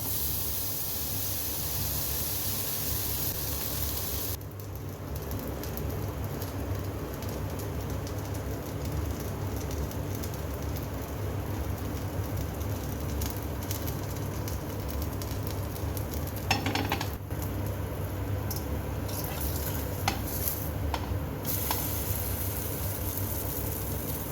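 Egg-dipped chocolate bread frying on a tawa, a steady sizzle that runs throughout with a faint scraping bump partway through.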